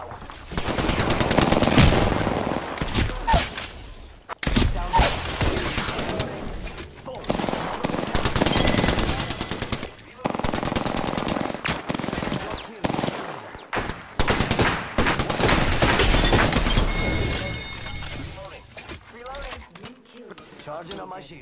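Sustained automatic gunfire from the video game Apex Legends rattles loudly in long rapid bursts with brief pauses, close and dense, while players talk over it.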